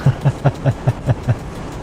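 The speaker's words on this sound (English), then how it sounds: "I happen to be driving train in the game" A train runs in the MaSzyna railway simulator with a steady rhythmic clatter of about seven evenly spaced low thumps, like wheels passing over rail joints, close and moderately loud with no voices.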